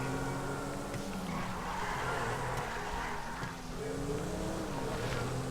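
A car skids across a wet road in the video game GTA 5: a steady engine drone with smeared tire slide, moderately loud and uninterrupted, no voices.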